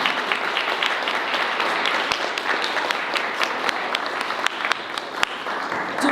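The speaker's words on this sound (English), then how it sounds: "Would you guys give everybody a round of applause?" An audience at a health policy forum gives a sustained round of applause, many hands clapping densely with a few sharper individual claps standing out, steady and moderately loud without speech.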